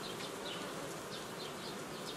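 Honeybees buzz in a continuous dense drone at an apiary hive while a nucleus colony is worked, with individual bees whining past close by.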